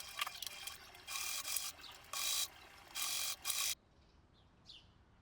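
A sewing machine stitches the front seam of a cotton blouse, running in four or five quick bursts with short gaps between them, followed by faint handling sounds.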